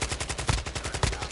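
Rapid automatic gunfire in a Call of Duty match, a fast steady stream of shots with a couple of heavier cracks, loud and close, with no talk over it.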